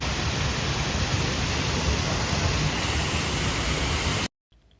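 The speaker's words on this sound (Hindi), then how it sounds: "यहाँ पे ना ऊपर बहुत प्यारा सा वाटरफॉल हो रहा था" A waterfall at Shilparamam in Hyderabad gives a dense, steady rushing roar, loud and close and unbroken for about four seconds before cutting off abruptly.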